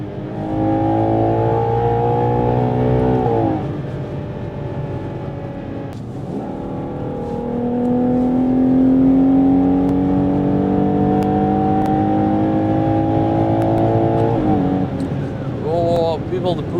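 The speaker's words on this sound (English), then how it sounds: "This V12 noise, man." A 2025 Ferrari Purosangue V12 accelerating on the Autobahn, a loud smooth engine note climbing in pitch through the gears, dipping briefly at shifts, then rising again, with a voice exclaiming over it.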